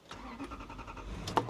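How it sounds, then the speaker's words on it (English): A car engine cranks and catches after a part is replaced under the engine cover, giving a low rumbling turnover that ends in a sharper burst as it fires, fairly close. "Start the engine."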